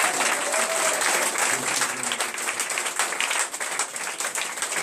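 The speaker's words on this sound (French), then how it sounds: "Est-ce qu'on peut acclamer Jésus pour le miracle?" A church congregation gives sustained, loud applause with cheering, a dense steady clatter of many hands filling the room.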